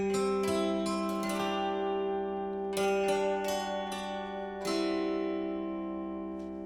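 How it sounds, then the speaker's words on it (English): Indian swarmandal tones triggered from a MIDI guitar ring out as a string of plucked, shimmering notes over long sustaining drones, each pluck bright and zither-like, steady and moderately loud with no talking. "I have a similar instrument but from India called Swarmandar,"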